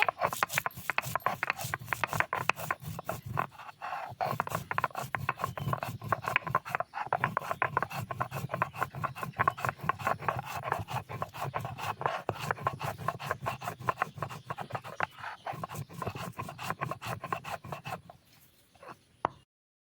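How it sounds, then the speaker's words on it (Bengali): Dry red chillies being ground into powder for a mango mash: a dense, rapid run of rasping, scraping strokes continues for most of the stretch, then trails off near the end. "শুকনো মরিচ গুঁড়ো করে নিচ্ছে"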